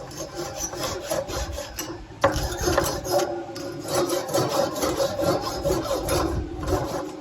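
Spring-mounted bristle grill brush scrubbing the cooking grate of a drum smoker, a steady rough rasping scrape that repeats in quick back-and-forth strokes, close and fairly loud with no talking.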